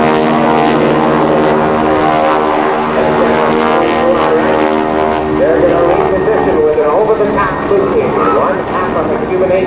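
Red Baron Stearman biplanes roar past at an airshow, a loud sustained radial-engine drone with shifting pitch as the formation passes, heard under an announcer's steady commentary.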